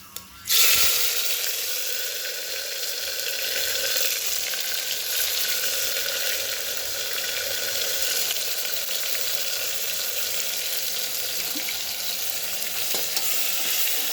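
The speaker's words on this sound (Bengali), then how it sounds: "তারপরে মশলাটাকে আমি টমেটো আর পেঁয়াজটাকে একটু কষিয়ে নেব ভালো করে।" Tomato, onion and spice masala sautéing in a pan for a Nepali jhol, opening with a sudden loud hiss as it hits the oil, then settling into a steady dense sizzle and fry that carries on throughout.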